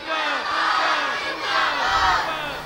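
A large religious gathering shouts a slogan back in unison in response to a leader, two loud swelling roars of many voices filling the space.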